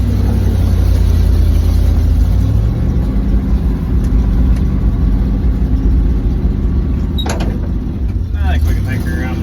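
A 1983 Chevy engine idles loud and steady with a deep low rumble that never lets up, and people talk over it.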